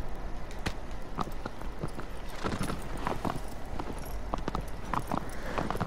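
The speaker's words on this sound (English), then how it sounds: "To control the horse is even hard" Horse hooves clip-clop in Shadow of the Colossus in a quick, uneven run of sharp knocks. The hoofbeats sound close and continue throughout at a moderate level.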